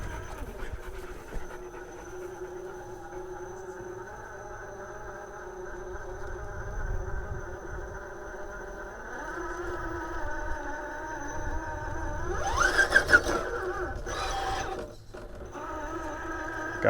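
An RC rock crawler on a Rock Pirates carbon Interceptor chassis climbs a steep vertical hill outdoors, its electric motor whining steadily and rising in pitch as the throttle is worked, with brief bursts of louder wheel and gear noise.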